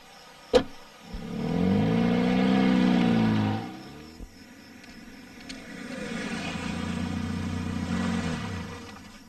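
A car engine rumbles up and pulls away, swelling for a couple of seconds before settling into a steadier running drone, with a sharp click near the start and no talk.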